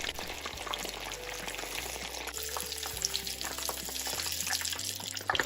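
Six or seven fish pieces frying in a pan give a steady, close, dense sizzle that holds throughout, with a low hum beneath it and no talk.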